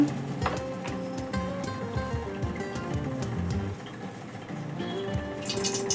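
Hot oil for malpua sizzles and crackles steadily in a pan, with a few clinks of utensils against the cookware.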